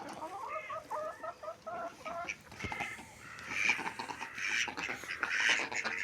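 Farmyard hens cluck in quick broken phrases and a rooster calls among a flock of about fourteen chickens, moderately near with some outdoor background noise and no talk.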